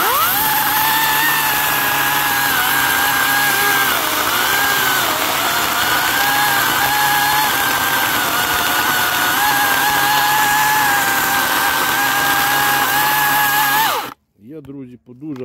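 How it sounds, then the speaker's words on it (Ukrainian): An Einhell GE-LC 36/35 Li cordless chainsaw cuts under its own weight with a loud, steady, high-pitched motor whine that wavers slightly with the load for about fourteen seconds, then stops abruptly. "Не давлю зовсім, просто пила під своєю вагою."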